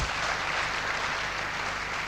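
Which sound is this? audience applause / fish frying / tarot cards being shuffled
audience applause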